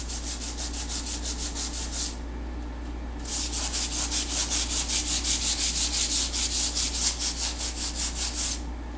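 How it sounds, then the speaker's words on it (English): Hand sanding smoothing the fiberglass surface of a subwoofer box, a steady rhythmic back-and-forth rasp of about three strokes per second, close, pausing briefly near the two-second mark, with a low hum beneath. "I'm just kind of smoothing this out so it's got a nice smooth surface"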